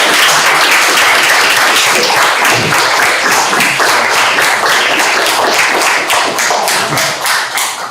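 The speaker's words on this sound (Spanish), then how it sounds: "Démosle un fuerte aplauso a nuestro." Dense, loud audience applause after an academic talk, many hands clapping continuously and slowly thinning toward the end.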